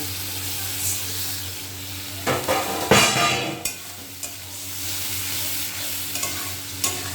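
A small splash of water hits spices frying in a hot pan, setting off a burst of loud sizzling and hissing. Stirring scrapes come before and after it, with softer crackles continuing.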